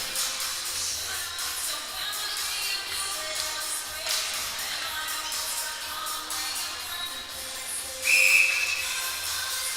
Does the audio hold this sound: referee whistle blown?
yes